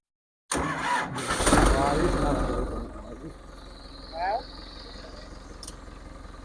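A 6055 three-speed farm tractor engine cranks and catches with a loud roar, then settles into a steady idle. Voices are heard nearby.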